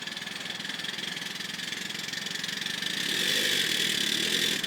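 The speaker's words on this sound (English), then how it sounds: "The engine's been in steam now for a couple of hours" A model steam locomotive that has been in steam for hours runs with a steady, fast mechanical chuffing and hiss, close and even, growing slightly louder toward the end.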